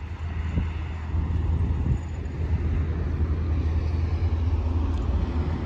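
Bus from the SC Minas line pulling into the Pouso Alegre bus terminal, a steady low diesel engine rumble that stays close and even throughout, with no voices.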